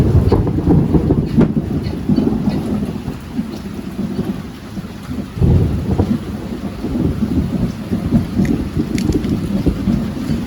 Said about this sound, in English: Electrical storms like that?